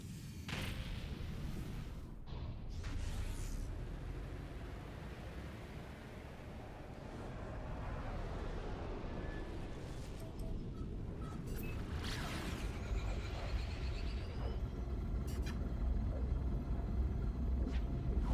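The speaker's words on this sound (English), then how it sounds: "Weather warning. Incoming storm." Stormy weather rolling in on an alien planet in No Man's Sky, a steady low rumble and windy roar that builds gradually over the whole stretch, with a few brief bursts and whooshes.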